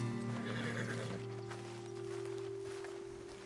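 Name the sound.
horses neighing and hooves in a video game, Red Dead Redemption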